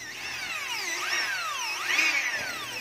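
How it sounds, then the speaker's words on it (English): A power drill bores a hole into a ceramic pot with a whining, high-pitched grind that rises and falls in pitch as pressure shifts. It runs continuously up close, and nobody speaks. "how I drill my ceramic"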